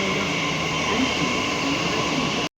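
A steady metro train rumble with a constant high whine fills the air, loud and close, then cuts off abruptly near the end.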